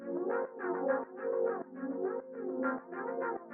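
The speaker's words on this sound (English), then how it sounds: "Which is doing delay on the left and the right side, separate timings, and then it has some chorus on there and some filtering and resonance" Delay, chorus and resonant filtering effects in FL Studio shape a synth phrase into repeating tonal notes with echoes, bouncing left and right, heard alone, moderately quiet and steady.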